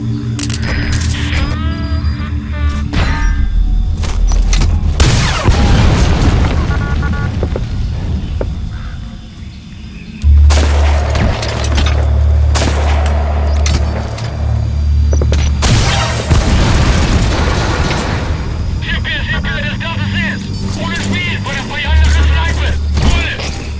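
Heavy cover-fire barrage in Metal Gear Solid V: The Phantom Pain, with loud booming blasts and rapid volleys of gunfire rolling over several seconds, mixed with mechanical clatter and game effects, close and dense throughout.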